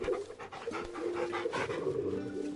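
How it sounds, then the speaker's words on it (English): Dog panting rhythmically while being petted in the Final Fantasy XVI video game, quick close breaths repeating for a few seconds at a quiet level. "yes, you can pet the doggo"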